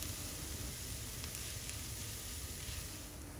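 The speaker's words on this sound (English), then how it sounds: "now let it cook for another few minutes for the flour to cook through" Vegetables, sausage and a spoonful of flour cook in a hot pan, giving a faint, steady sizzle with soft crackles and no talking.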